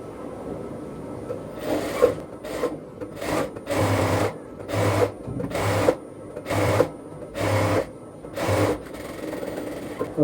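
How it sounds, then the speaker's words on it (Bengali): A sewing machine stitching a bell sleeve runs in about nine short, evenly spaced bursts of rapid mechanical chatter, close and clear. "এবার আমি এখানে আরো একটা সেলাই দিয়ে দিব এবার, বাট এই সেলাইটা 2 সুতা উপরে হবে"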